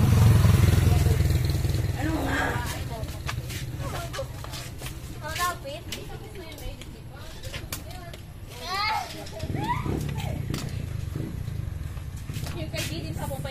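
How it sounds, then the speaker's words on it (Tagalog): Motorcycle engines rumble past, one near the start and another later, over a busy outdoor background with children's voices and clatter. "May mga dumadaan na motor ha."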